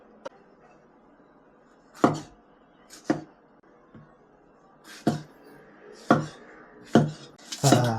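A knife chops garlic and ginger on a cutting board, about eight sharp, close knocks at uneven intervals with quiet kitchen background between strikes.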